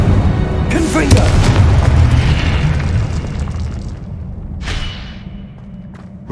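Fiery Confringo blasting spells burst in Hogwarts Legacy, with a heavy boom near the start and another sharp burst later, over rumbling battle noise and a shouted voice.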